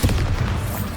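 Bombarda spell blast from the Hogwarts Legacy video game: a loud, low, booming explosion that hits at once and rumbles on steadily for about a second, with no voices.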